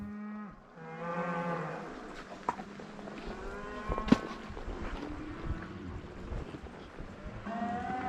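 Cattle moo in long, drawn-out calls as a herd moves down through timber on a Montana cattle drive. Several cows low one after another against faint outdoor background noise.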